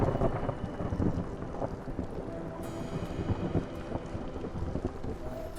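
Storm ambience from the strategy game Against the Storm: a steady dense wash of rain and low rumbling thunder with wind, fairly loud and continuous throughout, no voices.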